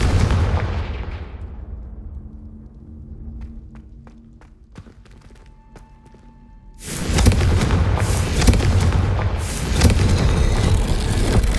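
A Confringo fire spell bursting in Hogwarts Legacy, with a loud, sustained roar of explosive, crackling impact noise arriving after a quieter rumbling lead-in, all close and without talk.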